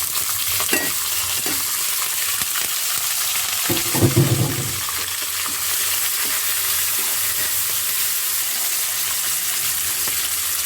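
Cashews with chana dal and urad dal fry in hot oil in a pan, giving a steady close sizzle throughout with a few stirring scrapes partway through.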